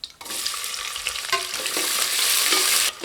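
Two large sliced onions sizzle in oil in a pan for mushroom pulao, with a continuous close frying hiss and occasional scrapes of stirring.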